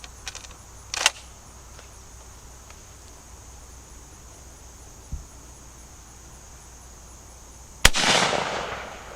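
A shotgun fires Federal #2 steel shot through a Carlson's long range choke at 40 yards: one loud, sharp blast near the end with a long fading tail, after a few smaller pops, over a constant insect hum.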